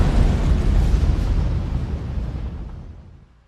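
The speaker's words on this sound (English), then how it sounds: "Flames shoot through a pipe into the next tank, causing an even more violent explosion." A storage tank explodes during hot work as flames travel through a pipe from the adjoining tank, a loud, broad roaring blast that starts at full strength and slowly fades away over a few seconds.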